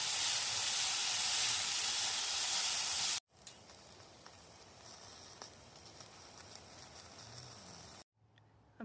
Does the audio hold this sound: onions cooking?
yes